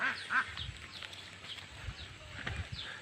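Ducks quack in scattered short calls over a faint farmyard background, moderately close and not very loud.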